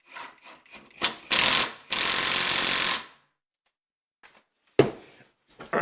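A knockoff Makita impact driver removing a fastener, with two loud sustained bursts of rapid hammering clatter followed by short isolated taps, close up with no talking.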